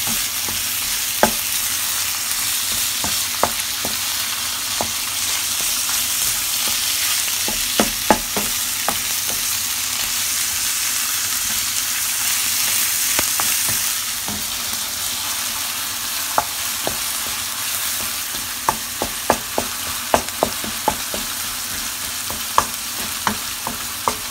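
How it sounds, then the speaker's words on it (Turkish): Minced meat fries in a pan with a loud, steady sizzle throughout, punctuated by repeated sharp scrapes and taps of a spatula as it is stirred in irregular bursts. "Ve kıymayı da karıştırarak kavuruyorum"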